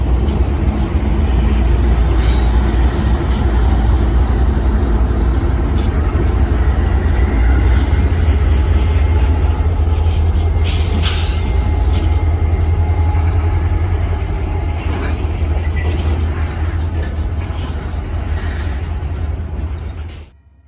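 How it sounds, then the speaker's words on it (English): A CSX local freight train arrives at Framingham Yard, a loud, steady low rumble and rolling clatter of cars sustained close by, with a brief higher screech midway before it cuts off. "Various locals run in and out of Framingham Yard, such as L002, seen here arriving from the west."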